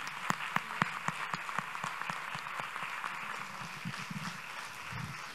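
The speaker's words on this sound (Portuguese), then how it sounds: "Umas palmas para..." Concert audience applauding a fado singer, a steady crowd of clapping hands with a few sharp, close claps standing out early on, sustained evenly for several seconds with no speech.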